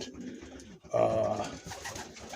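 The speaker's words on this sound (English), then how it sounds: "And look at these pigeons." Racing pigeons coo in a soft, close, brief burst over a quiet background.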